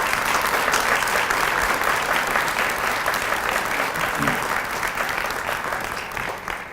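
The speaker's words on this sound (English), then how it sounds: "You can now give them your applause." Sustained applause from an audience at a university public health honors convocation, dense and loud clapping that holds steady and begins to taper at the end.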